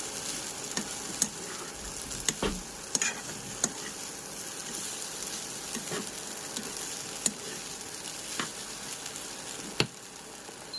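Kande pohe, flattened rice with onion, being stirred in a pan: soft, faint sizzling runs throughout, broken by occasional light clicks and scrapes of the spoon against the pan, with no voices.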